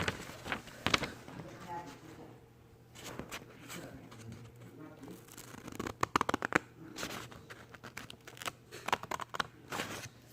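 Scissors snip through X-folded paper in a paper-folding craft, giving soft, faint clipping and rustling sounds while a voice talks over them.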